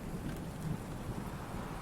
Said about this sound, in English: Love that rain effect.